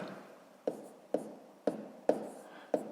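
Pen or pencil tapping and scratching on paper while writing out numbers for column multiplication, five short sharp strokes spaced about half a second apart over a faint hiss.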